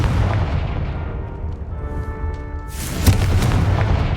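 Confringo fire spell in Hogwarts Legacy: a deep booming blast opens, a ringing tonal shimmer follows, then a second sharp burst with a bright crackling tail.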